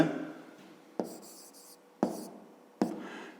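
Pen or pencil scratches on paper during a fifth-grade geometry exercise, with several quick strokes separated by short taps, close and fairly quiet.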